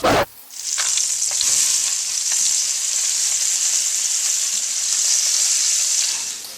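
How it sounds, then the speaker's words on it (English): Coffee-rubbed short ribs sizzle loudly and steadily as they sear in a hot pan, with a few clinks and scrapes as pieces are turned. "I'm going to flip my short ribs so the other side can start searing as well."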